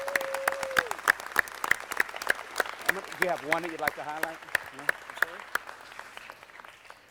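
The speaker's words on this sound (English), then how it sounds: "Let's give them all a rousing applause" Steady applause for honourees rises from the chamber at a Los Angeles city council meeting, sharp individual claps repeating throughout while people talk over them.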